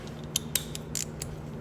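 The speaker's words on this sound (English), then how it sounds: "I'm gonna grab my ratchet." Ratchet wrench clicking on 14 mm bolts during a front brake replacement on a 2010-2020 Kia Optima or Hyundai Sonata; a few short sharp creaking clicks, close and fairly quiet, over a low steady hum, with no talk.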